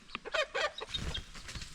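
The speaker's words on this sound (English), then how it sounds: "This cock or rooster has made a noise." A rooster in a backyard flock gives a short burst of loud crowing and clucking, with other chickens squawking nearby.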